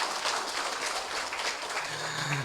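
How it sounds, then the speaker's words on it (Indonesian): An audience applauds for PT Adaro Indonesia at the closing of a UMKM event, a dense, steady patter of many hands clapping, fairly near and continuous, with a faint voice briefly under it toward the end. "Boleh tepuk tangan untuk PT Adaro Indonesia."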